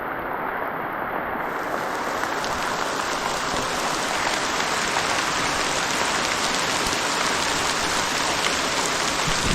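Heavy rain pours down steadily and loudly on surfaces during the rainy season, forming a dense, unbroken hiss that continues without pause and with no voices over it.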